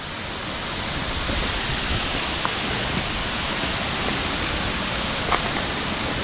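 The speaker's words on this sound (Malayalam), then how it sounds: "അവിടുന്ന് വെള്ളം വരുന്ന ശക്തിയിൽ താഴേക്ക് വെള്ളം പതിച്ചു പോകുന്ന സ്ഥലങ്ങളാണ്" Njandirukki waterfall in Idukki roars as water crashes down, a steady broadband rush heard close and loud, continuous with no voices.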